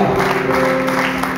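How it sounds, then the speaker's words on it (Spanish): Church congregation applauding during a Sunday service, a steady close wash of clapping with a sustained tone held underneath throughout. "dale un aplauso, iglesia"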